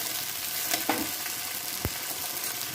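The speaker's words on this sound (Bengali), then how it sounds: "বিনস গাজরটা একটু হালকা করে ভাজা ভাজা করে নেব" Sliced beans and carrots fry lightly in hot oil in a pan, giving a steady close sizzle with a few brief clinks and scrapes of stirring, and no voices.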